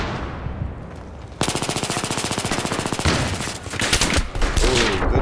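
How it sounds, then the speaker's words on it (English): Rapid automatic gunfire from a 417 rifle in a video game rattles out in a long, dense burst, followed by more scattered loud shots and impacts. "Good shots with the 417."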